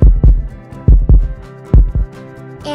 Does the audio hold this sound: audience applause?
no